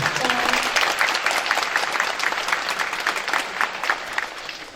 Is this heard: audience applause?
yes